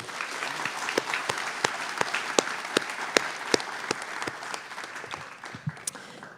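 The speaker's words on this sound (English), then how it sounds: "Let's give them another round of applause." A room full of people at a respiratory therapy graduation applauds, dense continuous clapping with a few louder individual claps standing out near the listener.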